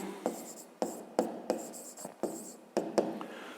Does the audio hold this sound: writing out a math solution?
yes